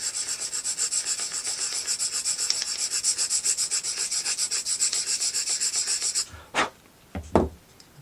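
Rhythmic back-and-forth rasping of sanding or filing a small wooden book nook piece, steady and close for about six seconds, then a few separate knocks and scrapes.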